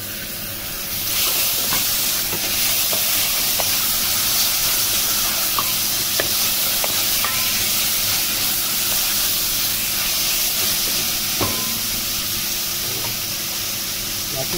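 Tomatoes added to a frying pan of karela (bitter gourd) and onion sizzle in a steady, loud hiss that continues unbroken for several seconds with faint clinks of utensils.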